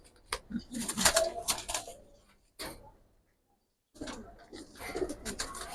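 Lal Khaki pigeons coo in soft, throaty bursts close by, with scattered ticks and rustles and a quiet gap in the middle.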